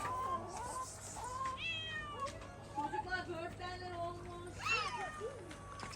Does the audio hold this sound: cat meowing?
yes